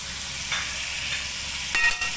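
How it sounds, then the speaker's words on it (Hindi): Chicken, spinach and potatoes stirred and fried in a pan with salt, red chili, turmeric and coriander, giving a steady low sizzle with a few brief louder scrapes of stirring near the end. "दोबारा भूनें।"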